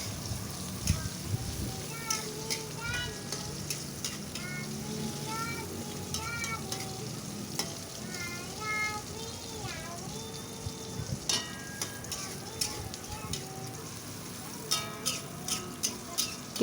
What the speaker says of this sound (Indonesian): Kita goreng sampai keluar harum gitu, atau setengah matang ya teman-teman, jangan sampai gosong bawangnya gitu